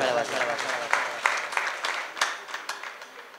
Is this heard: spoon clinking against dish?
no